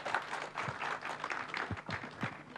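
Audience applause at the opening of a Kenya meat expo, a steady patter of many hands clapping at moderate loudness for a couple of seconds, with faint voices mixed in underneath.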